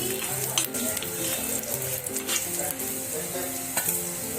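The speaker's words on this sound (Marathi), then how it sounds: "थोडी मिरची टाकायची लाल मिरची भाजून घ्यायची" Red chilies dry-roast in a pan alongside coriander seeds, giving a soft continuous sizzle and rustle with occasional stirring scrapes, close and moderate in level, with a faint hum beneath.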